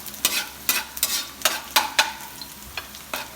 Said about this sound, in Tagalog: lalagay na natin yung ating bawang. Yan, haluin lang natin para maluto ng mabuti.